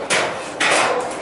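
Hammering at a construction site outdoors, two loud sharp blows about half a second apart followed by a fainter third, ringing against a steady background.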